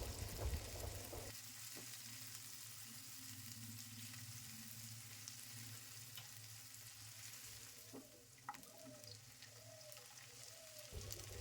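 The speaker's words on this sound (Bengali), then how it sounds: "পেঁয়াজ ভাজার সময় দিয়ে দেবো লঙ্কা কুচি" Onion, garlic and chopped green chili sizzle steadily in hot oil, a close, constant frying hiss with occasional stirring taps and a faint hum in the background.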